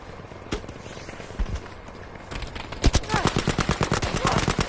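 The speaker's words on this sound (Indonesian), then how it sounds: "Nembak gak kena-kena" Gunfire from the video game Battlefield 5, scattered single shots at first and then a rapid rhythmic burst of automatic fire, loud and close, with no speech over it.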